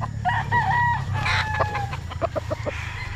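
Roosters (young gamefowl stags) crow at a farm, with one drawn-out crow up front followed by a run of quick clucks and shorter calls, moderately close over a steady low background hum.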